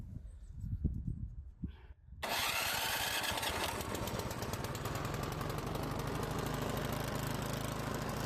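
A Troy-Bilt Storm 2410 snow blower, model 31AS62N2711, cranks on its electric starter and catches after about two seconds, then runs at a loud, steady, close-up roar through the remainder.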